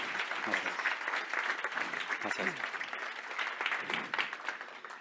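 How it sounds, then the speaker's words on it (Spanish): An audience at a conference on Industry 5.0 claps warmly after a speaker's talk, sustained applause throughout with voices speaking over it. "Así que un fuerte aplauso."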